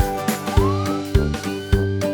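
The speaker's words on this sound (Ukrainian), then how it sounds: "Поліцейська машина." A cartoon police car siren wails in a children's song, its rising and falling electronic tone repeating over a bouncy musical backing with rhythmic beats.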